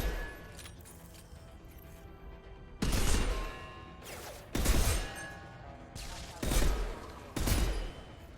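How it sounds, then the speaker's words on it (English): A burst-fire weapon shoots in the video game Mass Effect 2, with four loud, evenly spaced bursts over a steady background of game noise. "Okay, so it's a burst fire weapon."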